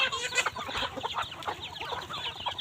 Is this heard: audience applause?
no